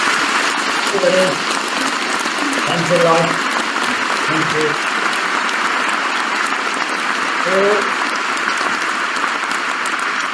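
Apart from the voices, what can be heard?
audience applause welcoming a speaker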